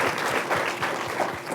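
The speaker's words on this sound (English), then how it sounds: "So let's give them a round of applause." Applause from a conference audience for a school group, a steady dense patter of many hands clapping throughout, fairly loud and close, with no voices over it.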